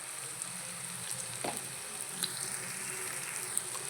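Chili powder and coriander powder stirred into a bitter gourd curry frying in a pan, a steady close sizzle with a few soft scrapes of the spoon, no talking.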